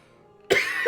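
One sudden, loud cough bursts out close to the mic, followed by a brief raspy tail, with a faint background hum before it.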